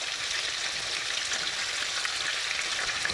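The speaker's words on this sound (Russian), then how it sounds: "обжариваем со второй стороны" Meat rolls with bell pepper frying in a pan, a loud, continuous close sizzle like heavy rain, steady throughout with no talking.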